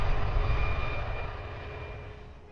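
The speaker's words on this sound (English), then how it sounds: "Clear for takeoff at 30. Right, so we have our takeoff clearance." Simulated Airbus A340 engines roar steadily during a takeoff roll in Roblox Aeronautica, a loud, broad, continuous jet rumble that gradually eases in volume, with no talking.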